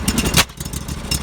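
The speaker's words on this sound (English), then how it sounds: "Backfire!" A small gasoline engine sputters roughly during an attempt to start it, giving a brief burst of loud, uneven pops and chugs close by that fades and then flares once more, with no talk.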